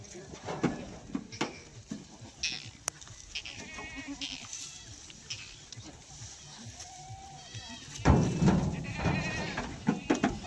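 Kathiawadi goats bleat again and again from close by, their cries overlapping with people talking and a busy livestock-yard background.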